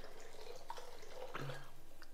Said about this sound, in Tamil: இந்த அளவுக்கு தண்ணி சேர்த்துறேன்.